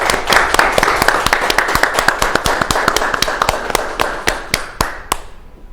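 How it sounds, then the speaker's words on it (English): Applause from a small gathering for young music performers at a Fund the Fun fundraiser: a few people clap at close range, the sharp claps quickening and then thinning out as the applause fades, with no one talking. "Can we give a round of virtual applause to our young performers?"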